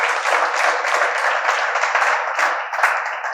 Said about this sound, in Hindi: एक बार प्यारे भाई के लिए जोरदार तालियां बजाएं।